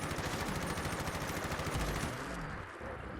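Fully automatic fire from an M4A1 rifle in Fallout 4, a rapid, even burst of shots lasting a few seconds, steady rhythm, fairly quiet and close, ending abruptly.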